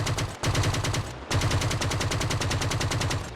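An automatic weapon in Arma Reforger fires rapid, loud, evenly spaced bursts. There is a short pause after the opening volley and a brief break before a second, longer sustained stream of shots.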